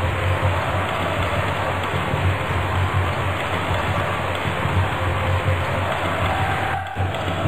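Heavy rain falls during a soccer match in a J-League club management video game, a steady dense broadband hiss that runs loud and constant without a break, with no talk over it.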